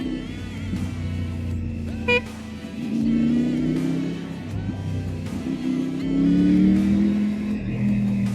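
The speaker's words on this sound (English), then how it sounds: "we do have some traffic, which we need to encounter" Busy road traffic on a Bangalore morning, heard from a Triumph Tiger 900 motorcycle, with engines droning and rising steadily throughout and a single short horn toot near the start.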